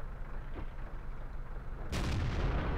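A tank cannon in World of Tanks, an AMX 13 90, fires one loud booming shot after a stretch of low rumbling engine noise, with the blast carrying a broad roar to the end.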